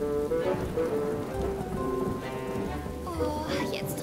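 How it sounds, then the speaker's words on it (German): Cartoon rain falling steadily throughout, a soft pattering wash under music with tonal melody lines, no clear talk. "Oh, jetzt regnet es schon seit Tagen."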